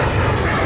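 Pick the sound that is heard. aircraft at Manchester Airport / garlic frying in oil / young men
aircraft at Manchester Airport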